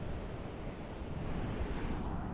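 Steady broadband wash of ocean surf rolling onto a beach in Sardinia, a continuous close roar with slight swells in level and some wind rumble, no voices.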